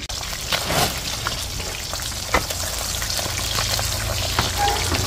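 Daing, dried fish, fries in a pan with a dense, continuous sizzle and crackle, occasional louder pops and spatters standing out close by.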